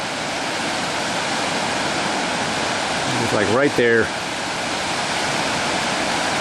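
Broad, steady roar of river rapids rushing at a big hole on the Salmon River in Idaho, constant and loud, with someone speaking briefly over it midway.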